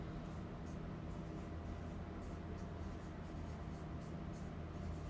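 Steady scratchy marker or chalk strokes as an example is written on a board, a continuous soft scraping texture over room hiss with no talking.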